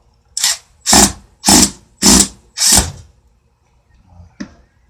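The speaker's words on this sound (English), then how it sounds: "Taking out a lot of these screws that had paint in them" A power drill unscrews paint-clogged screws in short bursts: five loud whirring pulses of about half a second each in a quick run, then a brief quieter blip after a pause.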